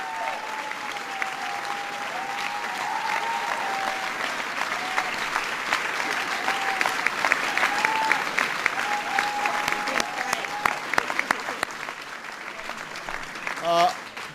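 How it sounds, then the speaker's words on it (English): A large audience at a White House speech applauds steadily for a named guest, a broad, continuous wash of clapping and crowd noise with someone speaking over it near the end. "Please give Steve a big round of applause."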